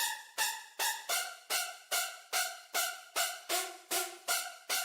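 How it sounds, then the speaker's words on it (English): Phase Plant synth strings with the ensemble effect's detune turned up, a bright shimmering tone struck in an even train of about a dozen repeated notes, each swelling and fading, with no voices. "So when you turn this up, you can really hear the ensemble doing its thing."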